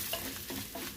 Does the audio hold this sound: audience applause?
no